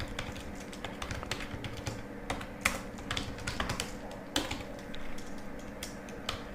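Continuous typing on a computer keyboard while entering text in a design program, steady clusters of close key clicks with occasional sharper taps, no talking.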